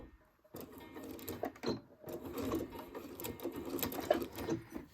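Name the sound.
sewing machine sewing a back stitch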